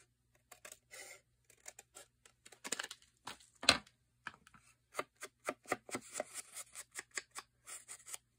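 Scissors snip a slightly oversized piece down to fit, a series of short crisp cuts and trims close by, irregular at first then settling into a quicker steady run of snips.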